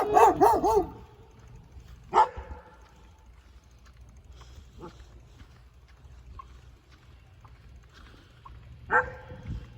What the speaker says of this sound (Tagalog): Hello, may aso.